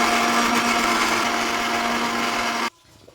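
A kitchen blender whirs loudly and steadily as it grinds onion, ginger, coriander leaves, whole cumin and water into a spice paste, then cuts off abruptly near the end.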